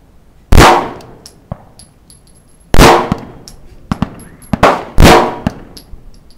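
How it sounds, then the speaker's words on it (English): 9mm gunshots at a rifle range, four sharp loud cracks spaced irregularly with ringing decay and faint clatter between shots. "She's shooting 9mm now."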